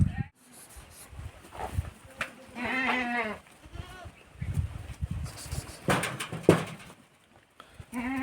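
Goats on a small-scale farm with a low-budget shed bleat repeatedly and loudly, several calls in bursts at varying distances, mixed with people talking.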